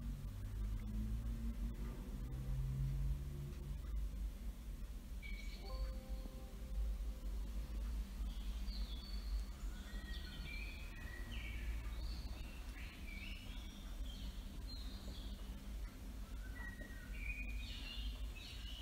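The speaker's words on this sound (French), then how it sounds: "le chant des oiseaux" Birds sing with scattered chirps and short whistled phrases at a distance, over a constant low rumble and noisy background hiss that runs throughout.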